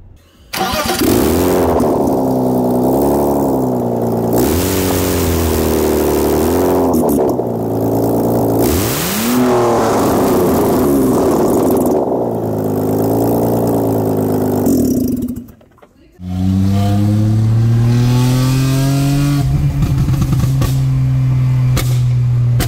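An M54 car engine with a stuck catalytic converter in the exhaust runs loudly up close, revving up and down in repeated swells, cutting out briefly, then firing again into a rough, steady run.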